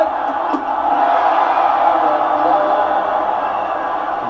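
Cleveland Cavaliers home crowd at a basketball game booing against Michael Jordan, a sustained broad roar of many voices filling the arena at steady loudness.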